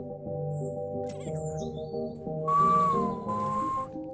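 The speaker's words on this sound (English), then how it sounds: "Whistle innocently." A bright whistled tune from the video game West of Loathing rises over a looping in-game musical backdrop, two sustained whistle phrases near the end.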